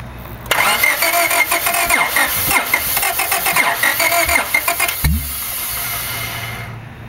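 A 1996 Honda Civic CX engine cranks over repeatedly while trying to start, a loud, steady rhythmic churning for about four and a half seconds, then stopping abruptly and leaving a low hum that fades out.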